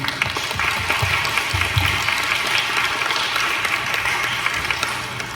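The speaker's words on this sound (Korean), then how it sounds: "여러분 큰 박수로 환영 부탁드립니다" Welcoming applause from the audience at a talk concert at Ewha Womans University, a broad, sustained clapping from a room full of people, with some low rumbling and handling noise early on.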